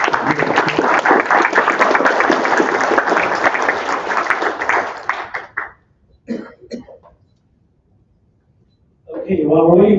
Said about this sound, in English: Another round of applause, great job.